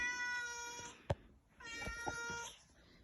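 A house cat meows twice indoors, each drawn-out, harmonic cry close and fairly loud, separated by a short pause with a faint click between them and no talking.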